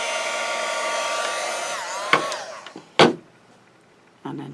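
A heat gun blows a steady, loud rush of hot air onto shrink film, then cuts off, followed by a few sharp handling clicks and knocks close by.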